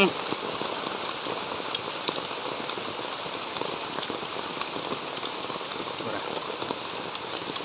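Steady rain falls on a surface in a rural mushroom-foraging garden, a dense continuous patter that stays even and fairly close throughout with no voices.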